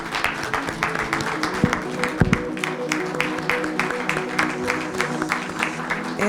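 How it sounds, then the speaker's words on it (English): An audience at a League of Women Voters candidate forum applauds, steady mid-distance clapping from many hands filling the room throughout, with faint voices underneath. "And a nice round of applause."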